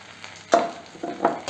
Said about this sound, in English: I am adding some broken cashew nuts, and this is optional.